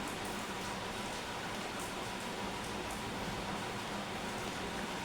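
Steady rain falls outdoors as a constant, even hiss with no pauses or voices.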